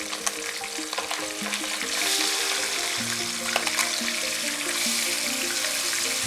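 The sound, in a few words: bhetki fish frying in hot oil on high flame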